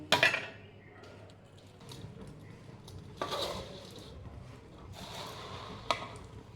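A spoon scrapes and clinks against a cooking pot as food is stirred during festival cooking for a Lakshmi puja, with irregular metallic knocks and scrapes at moderate loudness.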